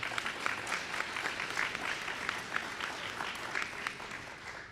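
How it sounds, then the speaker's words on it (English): An audience at a Pennsylvania governor's event claps for a group of people, a steady spread of many hands with a few sharper individual claps standing out, fairly close and continuous. "give a round of applause for these people"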